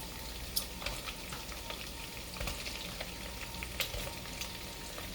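Sliced smoked sausage fries in a pan with a continuous crackling sizzle, broken by scattered sharper pops and clicks, fairly quiet and close.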